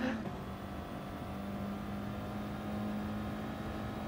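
A Toyota Supra race car engine in the racing game GT Sport drones steadily at a constant pitch, a continuous mid-level hum with no talk.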